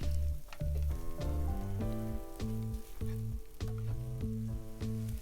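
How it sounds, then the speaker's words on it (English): Washed, drained rice sizzles as it toasts in a pot for Jamaican-style Mexican Spanish rice. The crackle is steady and continuous, with music playing underneath. "we just added that to the pot, and now we're just toasting it"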